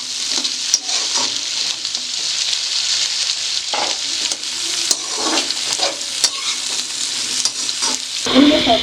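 Potatoes sautéed in a pan while cooking an aloo baingan sabzi, giving a steady close sizzle broken by frequent scraping stirs, louder and harsher near the end, with no talking.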